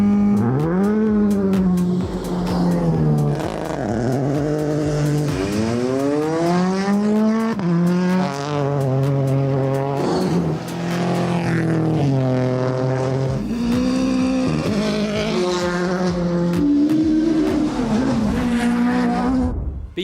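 Race car at Sydney Motorsport Park, engine loud and close, revving up and down through repeated gear changes in rising and falling sweeps, alone without talk.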